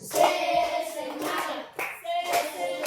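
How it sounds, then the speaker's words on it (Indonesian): Classroom children clap a five-beat spirit clap (tepuk semangat) in unison, loud and close, with a shouted group response and a pause partway through. "5 kali tepuk semangat"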